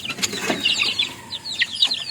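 Backyard chickens with several roosters cluck and squawk in quick, overlapping calls close by, with a brief flutter of wings.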